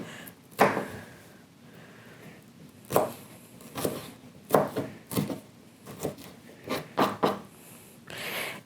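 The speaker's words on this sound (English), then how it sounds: "try to make them diced about the same as the other ones" Vegetables for a corn salad diced with a knife on a cutting board: irregular, distinct knocks and chops, some in quick clusters and others spaced apart, close and clear with no talking.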